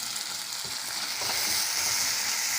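Tomatoes and capsicum sautéing in a pan for stuffed egg masala, a loud, constant close-up sizzle with soft stirring scrapes throughout and no voices.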